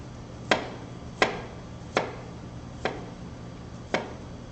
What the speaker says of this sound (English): the new potatoes I'll slice kind of thin